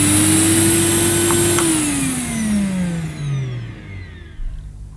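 A VonHaus pet grooming vacuum cleaner runs with a loud whining motor hum that holds steady, then winds down and falls in pitch as it is switched off, leaving a faint rattle at the end.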